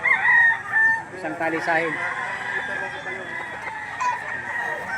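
Gamecocks at the Lipa auction market crowing and clucking, loud and close, amid a busy crowd while someone talks over them.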